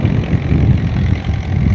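A large tractor engine runs steadily in a farm field, a loud, close, continuous low rumble with no talk.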